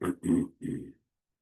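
A person clears their throat with three short, rough bursts in quick succession, the last one a little longer, close to the listener and then silence.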